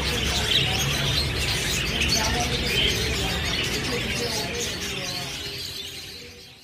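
Budgerigars chatter and chirp together in a busy, continuous twittering that stays fairly faint and slowly fades toward the end.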